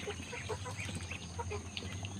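Chickens cluck softly in scattered bursts while eating, over a constant low hum, fairly faint, with no one speaking.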